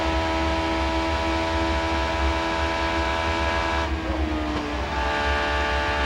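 An IndyCar race car at speed on California Speedway during the 2005 Toyota Indy 400, a steady loud high engine whine with a pitch shift as it passes, continuous and without commentary.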